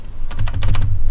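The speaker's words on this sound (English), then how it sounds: "this keyboard is doing H instead of M when I'm typing it" Fast, close clatter of typing on a computer keyboard with a faulty key, a loud burst of crisp keystrokes over about a second.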